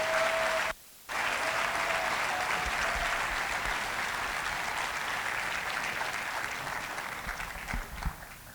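A church congregation applauds in sustained, dense clapping that briefly cuts out near the start, then continues steadily and loudly to the end.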